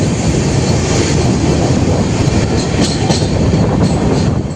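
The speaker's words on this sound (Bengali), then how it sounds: "আমাদের ট্রেন ছুটছে ফারাক্কা ব্যারেজের ওপর দিয়ে" The Shatabdi Express runs over the Farakka Barrage with a loud, continuous roar of wheels on the rails and a faint rhythmic clatter, heard close from on board the train.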